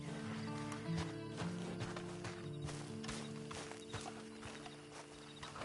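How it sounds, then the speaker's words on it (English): Steady horse hooves clip-clop at a walking pace over a constant background hum in the video game Red Dead, close and fairly clear with no talking. "And you better get on this horse."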